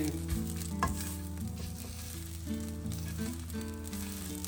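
Steady sizzling of onions frying in a pan, a continuous crackling hiss with occasional stirring clatter, fairly close and even in loudness.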